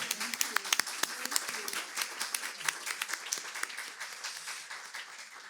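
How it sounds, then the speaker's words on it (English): Applause from a conference audience at a women's rights and treaty interpretation event, a brisk patter of many hands that starts strong and gradually thins and softens over several seconds, heard alone at moderate distance. "On that note, that's I think it's worth an applause."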